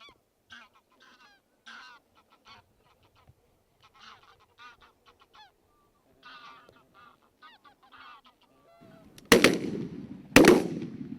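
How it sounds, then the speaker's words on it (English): Many geese honking faintly in the distance during dawn or dusk wildfowling, a scattered chorus throughout, followed by two loud sharp shotgun shots near the end. "we can see huge numbers of geese"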